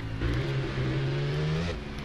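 Ducati 1199 Panigale motorcycle in the RIDE racing game, its engine droning at a steady high pitch with a slight rise before easing off, a brief, fairly close run.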